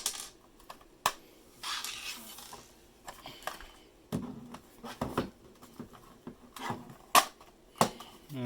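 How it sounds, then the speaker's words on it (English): Screws being taken out of an Alienware Alpha case: scattered small clicks, taps and metallic ticks at irregular intervals, close and fairly quiet, with occasional sharper knocks as parts are handled. "So let's go ahead and take all the screws out."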